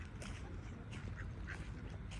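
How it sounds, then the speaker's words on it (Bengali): Several ducks quack repeatedly in quiet, fairly distant bursts over low rumbling background noise. "এই যে আমাদের দেশের হাঁসের মতো"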